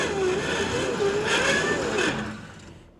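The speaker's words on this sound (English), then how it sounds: "Well, we're getting a lot of spinning from that left front wheel, but not a lot of torque management over to the right." A 2025 AWD Toyota Camry accelerates on a slippery incline with its left front wheel spinning, producing a wavering, rising engine and tire whine that holds for a couple of seconds, then fades out.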